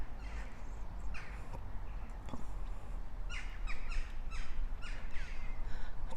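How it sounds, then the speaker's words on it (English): Birds call loudly outdoors in the Falkland Palace garden, with repeated harsh caws and chirps over a constant background hiss. "I don't know if you can hear those birds, but they are so loud."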